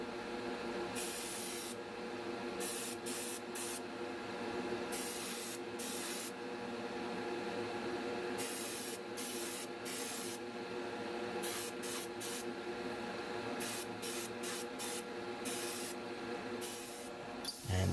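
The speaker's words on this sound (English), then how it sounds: "it's just gloss white through the airbrush, which is the Iwata HPM2" An Iwata HPM2 airbrush sprays gloss white paint onto a Matchbox Lesney Mercury Police Cruiser model, giving a steady close hiss that runs continuously with brief flickers as the trigger is worked.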